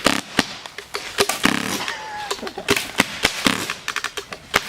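Repeated sharp pops from a Spyder Fenix paintball marker firing purple paintballs, a rapid irregular string of close, loud shots with brief gaps between bursts.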